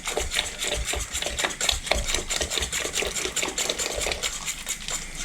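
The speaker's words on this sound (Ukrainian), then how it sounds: "Тепер тоненькою цівкою вливаю і одразу перемішую" Rapid rhythmic scraping and clinking of a whisk stirring a milk mixture in a pot, continuous and close, with no talking.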